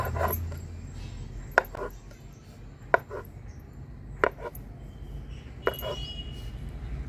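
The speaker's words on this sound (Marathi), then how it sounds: "तुम्हाला जसे पापड लहान मोठे हवे त्याचप्रमाणे तुम्ही लाट्या कट करा" A knife cuts logs of urad dal papad dough into pieces: four sharp chops against a board, spaced about 1.3 seconds apart, close and clear over a low background hum.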